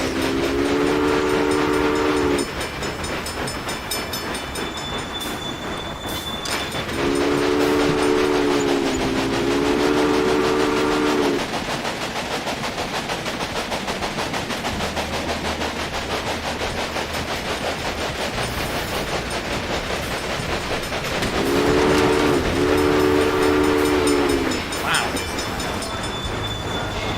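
Locomotive horn blasts in the Railway Empire railroad game, three separate two-tone horn calls sounding loud and near over a steady rumble of rolling train noise, with no talking.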